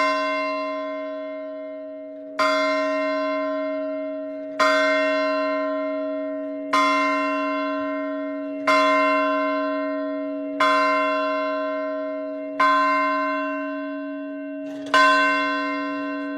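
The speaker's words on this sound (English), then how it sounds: "A nice big loud bell for you to wake you up." A large, loud bell rings eight times at slow, even intervals, each strike blooming with bright overtones over a steady sustained hum and fading before the next.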